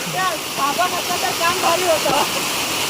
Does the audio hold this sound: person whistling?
no